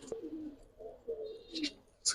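Wild pigeons coo in low soft bursts close by, several short rolling calls with brief gaps, mixed with a couple of higher chirps and a bit of nearby voice.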